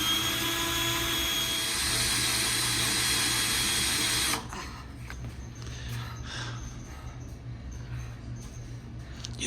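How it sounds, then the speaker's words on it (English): A drill grinds through thick steel while working on a vehicle drive shaft, a loud steady whine for several seconds that then cuts off, leaving fainter clatter and rustling. "It's thick steel, so it takes a while to drill through."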